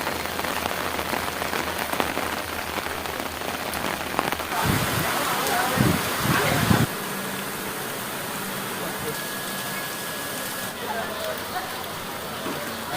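Heavy rain pours down steadily at Dornakal railway station, a dense, continuous hiss of drops drumming on surfaces that stays loud from start to finish.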